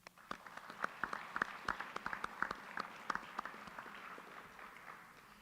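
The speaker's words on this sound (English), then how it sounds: "I'd like you to give a round of applause to them" Scattered applause from a modest audience at a student coding competition awards ceremony, with fairly quiet, steady claps that thin out toward the end.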